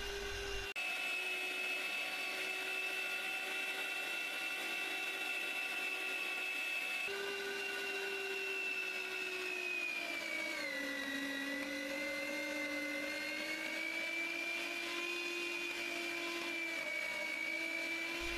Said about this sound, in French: je vais passer les feuilles dans la machine petit à petit